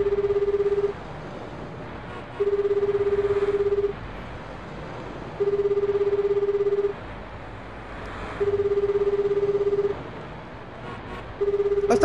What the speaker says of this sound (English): stop screening your calls and answer the fucking phone!